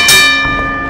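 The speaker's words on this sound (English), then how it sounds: "And the bell sounds." A single loud bell strikes to open a heavyweight championship wrestling bout in Buckhead, one bright metallic clang with sustained ringing overtones that fade over about a second.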